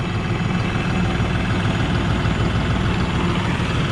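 A New Holland T3.70B Common Rail tractor's heavily muffled diesel engine idles steadily with a low, even rumble, no voices or other sounds on top.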